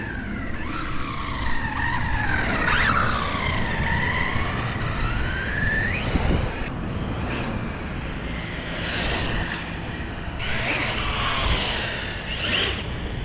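A VS4-10 Phoenix RC car races fast, its electric motor whining in rising and falling sweeps with tire scuffs, close and continuous across repeated passes.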